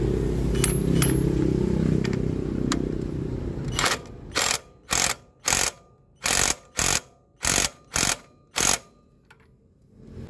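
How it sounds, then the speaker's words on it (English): A 24mm ratchet wrench turns the large nut on a Yamaha Aerox 155 scooter's CVT in a workshop. After a quieter stretch of faint background noise come eight sharp, evenly spaced bursts of ratchet clicking, close and loud, with no talking. "Yan, yung gamit nating wrench is 24mm."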